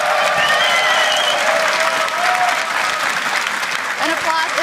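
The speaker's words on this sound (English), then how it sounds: "An applause is in order for these guys, the Spring Split champions once again." An arena crowd at the EU LCS Spring Split finals applauds champions Fnatic with loud, dense, continuous clapping and cheering, and speech mixed in above it.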